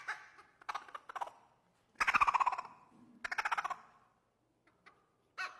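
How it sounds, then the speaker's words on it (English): A recorded squirrel call plays back in short bursts of rapid, throaty chattering pulses, separated by pauses, with a longer run in the middle. No one talks over it. "this is a squirrel"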